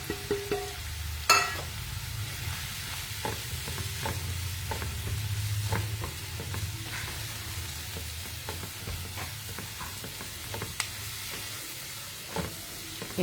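Tomato, dried spice powders and kasuri methi frying in a pan give a low, continuous sizzle, with sporadic clicks and scrapes of stirring throughout, close and fairly quiet with no voices.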